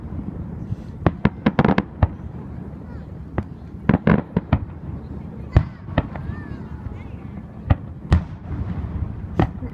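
Independence Day fireworks bursting outdoors, a rapid series of sharp cracks and booms in irregular clusters, with crowd chatter and voices in the background.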